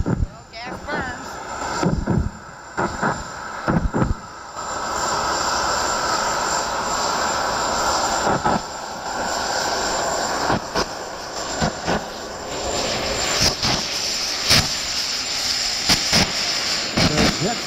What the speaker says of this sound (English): They're jet powered.